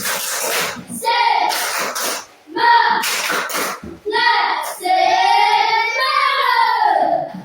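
A school class performs a 'tepuk semangat' clapping cheer: bursts of sharp, rhythmic hand claps alternate with children's chanted voices, loud and close, the claps coming in quick clustered patterns between sung phrases.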